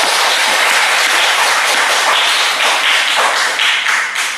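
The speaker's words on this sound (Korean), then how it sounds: "우리 박수 한번 쳐요." A church congregation clapping together during a Sunday afternoon sermon, a loud, dense burst of many hands that carries on for several seconds before starting to fade at the end.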